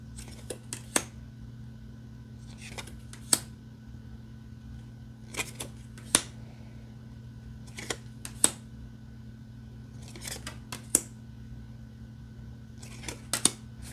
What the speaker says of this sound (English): We'll shuffle, pull a card